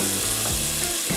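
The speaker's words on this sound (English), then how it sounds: "You hear that start to sizzle, you gotta move it because you don't want to burn the parsley." Parsley sizzling in a pan for an eggplant stew, a dense steady frying hiss that runs loud and continuous for the whole moment with faint irregular crackles underneath and no talk.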